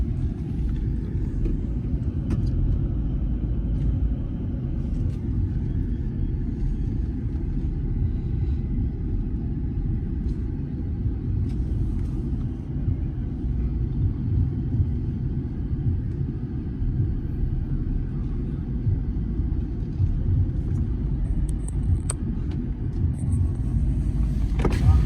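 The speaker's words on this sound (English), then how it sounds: "There's a burnout pit." Modified trucks at a burnout pit during a truck show event in Atlanta give off a steady, heavy low engine rumble that stays loud and continuous throughout, with no distinct rev peaks standing out.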